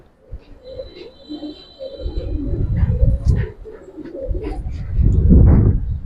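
Giribaz pigeons coo in soft, low, repeated bursts close by, swelling louder toward the end, with a few higher chirps and light rustling around them.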